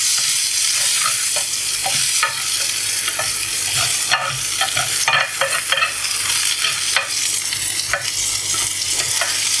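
Vegetables fry in a hot pan with a loud, steady sizzle, broken by repeated scraping and clattering as they are stirred. No voices are heard.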